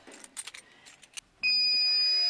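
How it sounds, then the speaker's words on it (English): Van keys jangle and clink in quick metallic bursts for about a second, close by. A loud, steady high electronic tone then starts abruptly and holds to the end. "have you got the van keys?"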